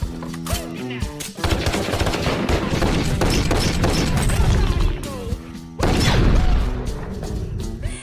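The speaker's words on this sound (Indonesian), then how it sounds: "Bishop selalu mengajari Stephen cara menembak." Rapid bursts of gunfire crack through a film scene of shooting practice, dense volleys of shots mixed with heavy impacts, loud and close, with a brief pause before another burst.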